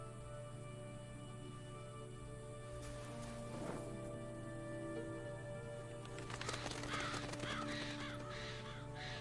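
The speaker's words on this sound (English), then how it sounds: "Crows." Crows cawing in the RWBY animated show, several harsh caws standing out over a steady ambient background with faint rustling, moderately loud and at a mid distance, no talking.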